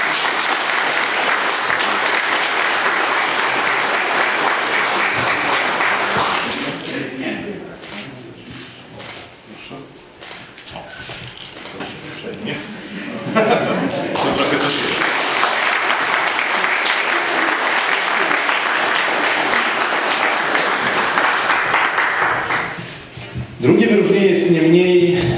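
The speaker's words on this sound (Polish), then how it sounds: "Naprawdę proszę o wielkie brawa dla pana." Loud applause from the audience at a municipal New Year meeting honouring local firms and residents; long bursts of dense clapping break off into a quieter stretch with speech and resume.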